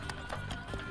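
A horse enemy in the video game Bravely Default 2, its hooves clip-clopping in a quick, regular rhythm, faint and brief.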